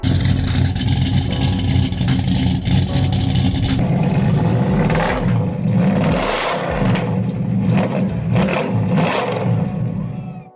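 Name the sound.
muscle car engine revving through straight-through exhaust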